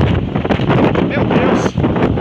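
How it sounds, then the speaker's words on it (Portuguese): Strong storm winds of about 180 km/h in Arcoverde, Pernambuco, batter the microphone with loud, gusty roaring and rattling, while a voice speaks excitedly over the din. "o vento carregou"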